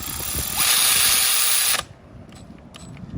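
Milwaukee electric ratchet tightening a bolt: a loud, steady motor whir with rapid mechanical clicking runs for just over a second, then cuts off abruptly into quiet handling noise.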